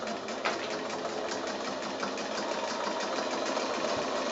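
A sewing machine runs at a steady, rapid pace while quilting top stitching along a wide fabric strip for a bag gusset, a close continuous mechanical whir with fine rhythmic needle ticks and no pauses or speech.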